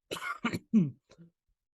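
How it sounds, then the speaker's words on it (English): A short coughing fit: four harsh coughs in quick succession, close and loud, fading into a weaker final cough. "I had a coughing fit there"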